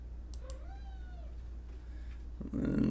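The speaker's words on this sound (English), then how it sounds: "I just heard one of my kitties mew, all so quietly" A single soft, drawn-out meow from a cat in a quiet room, followed by a brief rustle.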